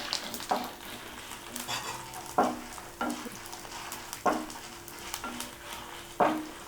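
Dried red chillies and garlic cloves frying on a medium flame for tiffin sambar, a soft continuous sizzle broken by regular scraping stirs of a spoon against the pan, close and alone.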